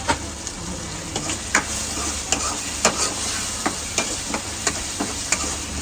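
Spices for dal makhani, including coriander-cumin powder, sizzle in hot oil in a pan while a spoon stirs, giving a steady frying hiss broken by regular scraping and tapping strokes.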